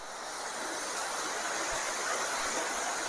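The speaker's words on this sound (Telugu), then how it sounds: "Talakona water falls." Rushing water at Talakona waterfall, a steady broadband roar that holds evenly throughout with faint wind buffeting, no voices present.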